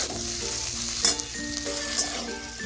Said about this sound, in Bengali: এভাবে একটু নাড়িয়ে চালিয়ে নিচ্ছি মশলার সাথে